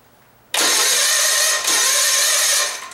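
A small vintage vehicle engine is cranked by its starter after the choke is pulled and the key turned, giving a sudden loud whirring burst with a brief dip midway, then fading out after about two seconds without settling into an idle.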